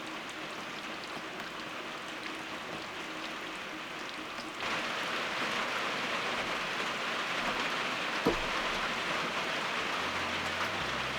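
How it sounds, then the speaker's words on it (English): Steady rain falls on a surface at an off-grid cabin in the Canadian wilderness, a dense even hiss that grows slightly heavier partway through, with no voices. "Well, it's still raining."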